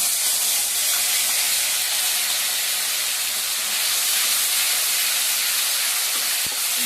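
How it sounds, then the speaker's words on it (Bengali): Onion, ginger and garlic paste fries in hot oil spiced with whole garam masala and bay leaf, for a duck-egg curry. A loud, steady sizzling hiss runs unbroken throughout, with no talking. "পেঁয়াজ আদা রসুনটা একটু হালকা ভেজে নিয়েছি"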